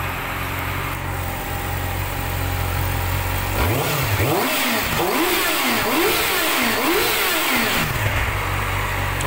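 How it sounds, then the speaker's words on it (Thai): A 2018 Yamaha YZF-R6 ABS on its stock exhaust idles, then revs in four or five quick, loud blips that rise and fall, heard up close before returning to idle. "เดี๋ยวผมจะพาไปฟังเสียงท่อเดิม"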